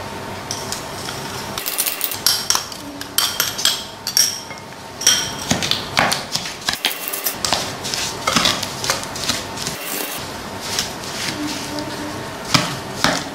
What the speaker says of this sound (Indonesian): Saya akan aduk dengan gula pasir.